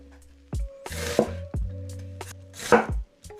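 Knife chops through onions on a cutting board for pickled onions, with a handful of crisp, separate thuds and crunches spaced irregularly, close and clear, without talk.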